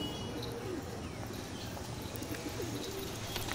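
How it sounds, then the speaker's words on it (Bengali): Pure Kaldam pigeons in a home loft cooing softly, low repeated coos with faint chirps from other birds in the background, no talk. "দাদার বাড়িতে সব রকমের পায়রা আছে, কম বেশি।"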